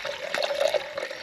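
Water is poured into a freeze-dried chili mac pouch at an off-grid island camp, a brief, close, gurgling trickle lasting about a second.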